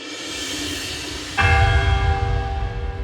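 A single church bell is struck partway through, ringing out loud and resonant with a long, humming sustain over a steady background hiss.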